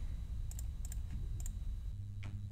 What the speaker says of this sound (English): Look at these clicky fingers. Oh my gosh, I haven't clicked something in so long.